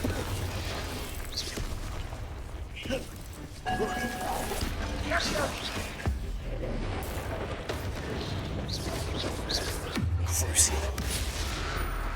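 Confringo fire blast spell in the Hogwarts Legacy game: booming, crackling bursts over a dense wash of combat effects, with game voices heard among them.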